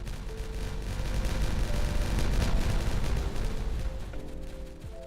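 Explosives detonate in Timberborn, a dense run of booming, crackling blasts that swell to a loud peak and then ease off, with a low rumble beneath.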